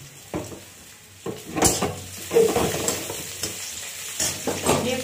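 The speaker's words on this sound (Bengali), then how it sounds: "এবারে আমি এই ম্যারিনেট করে রাখা মাংসটাকে দিয়ে দেব।" Marinated chicken hits a hot pan of softened onions over a high flame and fries with a steady sizzle, while a utensil stirs and scrapes at an irregular pace, close up.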